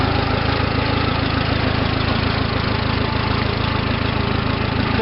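Case 430 tractor engine idling after warming up, a loud, steady low rumble with an even rapid pulse, close and unbroken with no voices.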